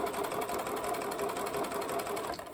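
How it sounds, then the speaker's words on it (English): Domestic sewing machine running steadily, stitching a fabric tool roll pocket up to its top edge; a continuous close whirring drone with no pauses and no talking. "we're going to sew all the way up to the top edge of your pocket"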